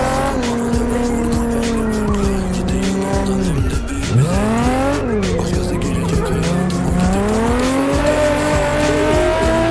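A Nissan 350Z slides sideways in Assetto Corsa with loud, sustained tire squeal over a revving engine, which dips sharply once mid-drift before climbing again through continuous, close skidding.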